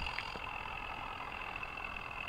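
A Swaraj tractor's engine runs steadily in Indian Vehicle Simulator 3D, a continuous mid-level drone with no change in pace and no voices over it.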